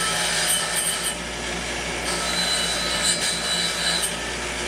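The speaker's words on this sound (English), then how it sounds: "Get some of the rust off it." Rust being scraped off metal with a blunt edge, a steady gritty rasp close by with a few sharper scraping strokes along the way.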